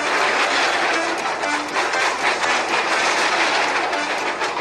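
A train rolls along steadily with a continuous rumbling clickety-clack, loud and close throughout, no voices over it.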